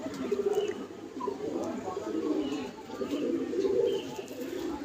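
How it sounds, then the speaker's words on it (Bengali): Pigeons cooing close by in a steady, overlapping low murmur of soft throaty calls that runs without break for several seconds, with faint background sounds mixed in. "এই পায়রা চলছে"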